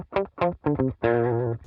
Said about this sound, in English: turn the mix all the way up to 100, and then basically you just get a bass sound